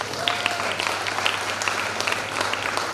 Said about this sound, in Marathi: सगळ्यांनी जोरदार टाळ्या वाजवायच्या